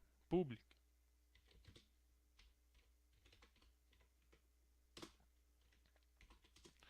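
Typing on a computer keyboard: faint, close bursts of key clicks in uneven clusters with a louder tap at the start and another partway through, otherwise near silence.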